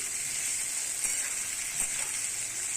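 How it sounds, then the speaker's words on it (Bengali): Potatoes fry in a pan with a steady, even sizzle of hot oil that holds at the same level throughout, plus a couple of faint stirring touches and no voices. "এটা আমি এর মধ্যে ভেজে নিচ্ছি ভালো করে"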